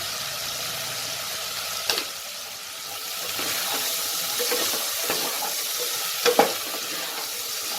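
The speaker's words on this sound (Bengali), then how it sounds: "এই আলুগুলোকে আমি ভালো করে একটু হালকা ব্রাউন করে একটু ভেজে নেব।" Cut potatoes with salt and turmeric frying in a pan, a steady close sizzle with occasional stirring scrapes and a couple of sharper clacks.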